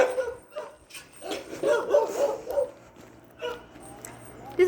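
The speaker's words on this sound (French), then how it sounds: "Désolée pour les chiens du voisin." The neighbour's dogs barking and yipping in the distance, a cluster of high whining yaps mixed with occasional fainter barks, with someone talking closer over them.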